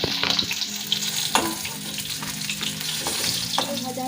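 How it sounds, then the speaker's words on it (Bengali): Rohu fish pieces frying in hot oil until browned on both sides, a close steady sizzle broken by a few scraping stirs and spatter pops. "মাছগুলো দুপাশটা লাল লাল করে ভেজে নিয়েছি"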